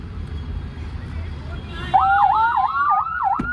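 Background noise, then a loud electronic hooter siren fitted to a motorcycle starts with a rapid repeating warble, close by and continuing to the end.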